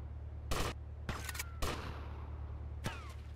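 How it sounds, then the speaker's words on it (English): Gunfire in GTA Vice City: Definitive Edition, four sharp, separate shots spaced irregularly over a quiet low hum, each a crisp crack with a short ringing tail. "I'm shooting."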